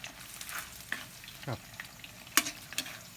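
Banana slices fry in hot oil in a pan for caramel-coated banana chips, with a bubbling sizzle broken by scattered pops and the clatter of stirring.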